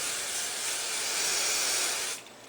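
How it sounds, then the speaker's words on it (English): Hairspray hisses from a can onto hair in one steady, close burst of about two seconds, then cuts off. "So then I'm going to spray it again."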